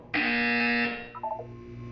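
Electronic buzzer in the video game Portal 2, one loud sustained harsh tone that cuts off after about a second, followed by fainter lower beeps over a steady background hum.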